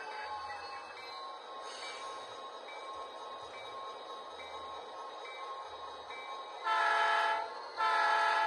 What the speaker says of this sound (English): It's time to run some trains.